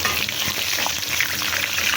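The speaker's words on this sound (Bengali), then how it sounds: "তো আমার মাছ ভাজাটা হয়ে গেছে" Two kilograms of Padma river hilsa fish fry in plenty of oil, producing a loud, unbroken, close-up sizzle with faint bubbling throughout.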